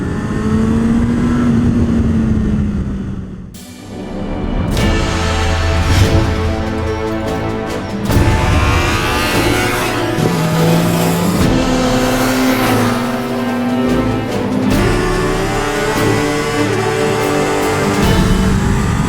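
Honda motorcycle on a race track during warm-up laps, engine loud and close, revving up through rising gear pulls with a brief lull, then sustained acceleration and shifts.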